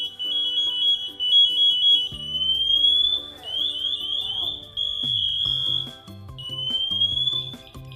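A firefighter's motionless alarm emits a piercing, high-pitched electronic tone in repeated chirping bursts that get louder and change pitch, with a voice talking underneath.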